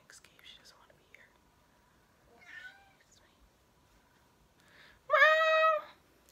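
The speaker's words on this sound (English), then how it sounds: "My cat's trying to escape." A house cat trying to escape gives a faint, short mew, then a loud, drawn-out meow close by, with quiet sounds between the calls.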